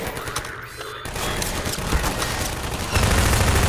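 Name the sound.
gunfire from the player's gun in the video game Half-Life 2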